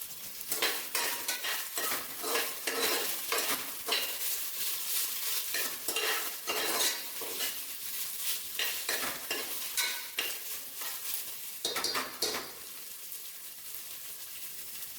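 Ginger garlic paste being stirred and fried in a pan for chicken biryani, with repeated scraping strokes of a spoon against the pan over a soft sizzle, steady and close with brief pauses.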